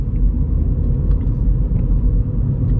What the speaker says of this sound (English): A little bit of road noise, but again, larger wheels with lower profile tyres, you can expect a little bit of noise